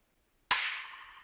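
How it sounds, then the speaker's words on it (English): A single sharp rim hit cracks out of silence, followed by a splashy, metallic spring-like reverb tail that slowly fades. "This is like a rim shot with a spring reverb on it."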